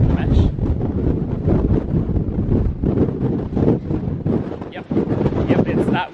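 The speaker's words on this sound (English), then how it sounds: "Yep, it's that windy." Strong wind on a cruise ship deck buffets the microphone in loud, gusty rumbling bursts that rise and fall continuously.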